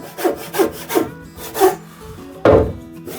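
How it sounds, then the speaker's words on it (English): A handsaw cutting a 40mm Hinoki cypress plank, with four even rasping strokes in a steady rhythm, a short pause, then one heavier stroke, close and clear. "I cut the plank that attaches to the Komachi."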